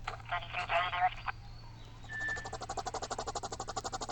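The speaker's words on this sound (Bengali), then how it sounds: "ফোন ইউজ করি" Phone use in a video game: a buzzy electronic tone gives way to a short beep, then a rapid run of evenly pulsing ring tones, faint over a steady hum.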